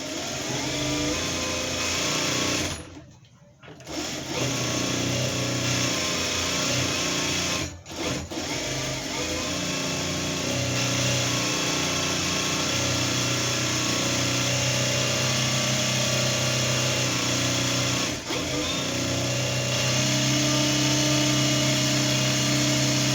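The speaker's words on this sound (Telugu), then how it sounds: "ఈ చివరి వైపున ఒక పావించుతోటి ఇలా మనం ఫోల్డ్ చేసి ఈ చివరి వైపున కుట్టు అనేది వేసేసుకోవాలి" A sewing machine runs steadily while stitching the folded edge of piping for a blouse, its motor hum continuous and close, broken by a brief pause near the start and a couple of short stops.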